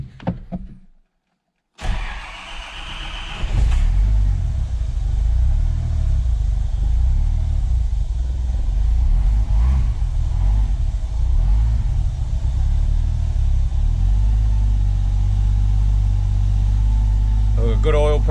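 A built Toyota TB42 turbo engine cranks briefly after a short quiet gap, then fires and settles into a steady, slightly rich running rumble nearby, with a voice talking over it.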